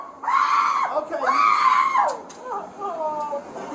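A woman screams loudly in an airport, two long sustained shrieks followed by shorter wailing cries, close and dominant over faint background noise.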